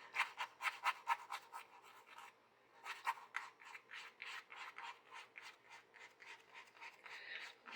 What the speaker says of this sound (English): Take a scrubber and just drag it.